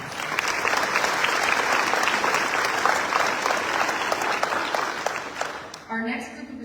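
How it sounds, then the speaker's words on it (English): Sustained audience applause for scholarship recipients at a military family scholarship award ceremony at Fort Cavazos. It is dense and even, and it fades abruptly near the end. "Let's give that group another round of applause."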